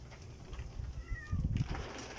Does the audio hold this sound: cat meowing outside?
yes